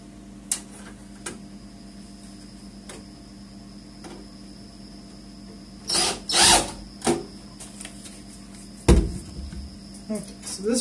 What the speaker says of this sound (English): Just use a drill instead of a screwdriver.